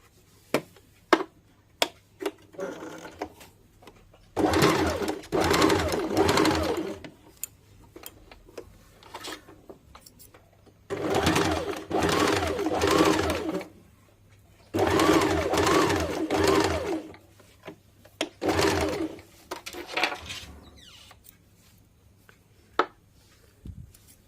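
A sewing machine runs in three sustained bursts of rapid stitching on a blouse's upper part, separated by quiet pauses with faint clicks and handling noises, close by.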